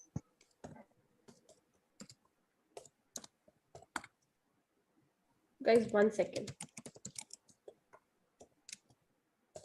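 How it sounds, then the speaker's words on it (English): A computer keyboard being typed on in short, scattered bursts of crisp clicks, with a longer, denser flurry partway through, while a person speaks intermittently nearby. "I'm typing something."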